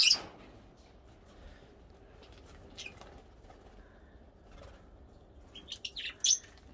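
Small birds give sparse, sharp chirps and tweets nearby, with a quiet stretch in the middle and a quick flurry of calls near the end.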